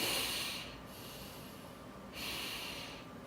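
A dental patient breathes slowly in through the nose to check a sinus lift, two soft, close airy breaths separated by a brief pause.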